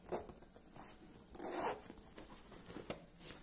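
Zipper on a Fortrek Black Hawk gaming chair being worked during an unboxing, a few quiet, close rasping pulls spread over a few seconds with no talk.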